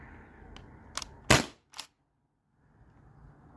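A modified T4E HDB68 pistol firing aluminum balls: a few sharp cracking shots, one loudest burst followed by a quicker smaller report, then near silence before a low background hiss returns.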